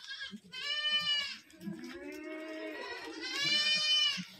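Pregnant Kathiyawadi goats from Junagadh bleating close by, two long wavering cries with a lower drawn-out bleat between them, clear and fairly loud over a quiet background.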